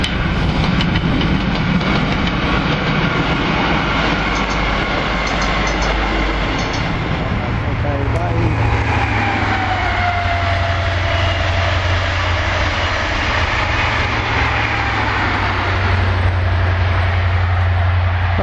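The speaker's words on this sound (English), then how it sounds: "Okay, that's the East Midlands train." East Midlands passenger train passing Werrington Junction, a loud continuous rail roar with rumbling low engine tone and rising whine, close by throughout with no talk.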